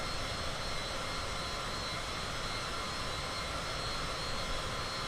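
A steady, even engine drone of an aircraft in IFR flight holds at a constant, moderate level throughout with no voices.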